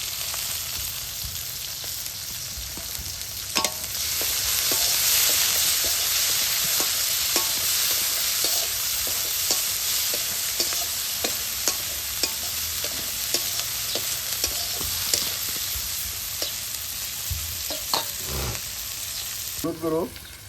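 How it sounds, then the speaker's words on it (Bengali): Onions and green chilies sauté in a pan while being prepared for a fresh mola fish breakfast, giving a steady loud sizzle with repeated sharp scrapes and clicks of stirring throughout. "পেঁয়াজ কাঁচামরিচ কষানো হয়ে গেছে"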